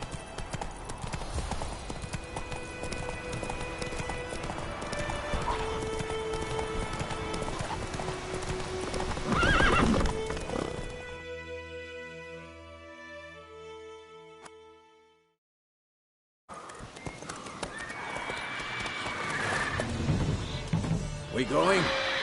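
In a PS4 video game, a horse's hooves clip-clop in a steady gallop and the horse neighs, with music and a player talking over it. The sound cuts to a brief silence before the hoofbeats resume.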